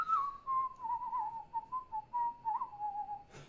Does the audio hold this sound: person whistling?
yes